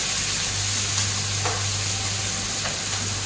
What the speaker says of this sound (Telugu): ఆనియన్ కూడా వేసేస్తున్నాను ఇవి బాగా ఫ్రై చేసుకోవాలి